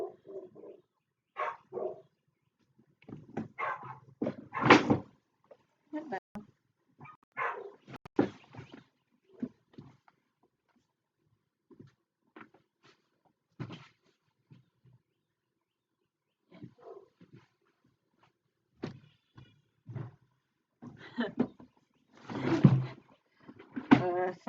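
Neighbourhood dogs outdoors bark and growl in scattered bursts, some loud and aggressive and others faint, with quiet stretches between and a fresh flurry toward the end.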